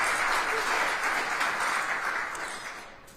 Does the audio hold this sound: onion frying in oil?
no